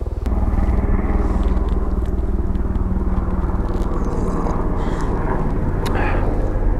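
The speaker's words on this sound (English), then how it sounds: "there's a search and rescue helicopter about to fly over" A search and rescue helicopter passes overhead, a loud, steady low rotor and engine roar that fills the whole stretch with no speech over it.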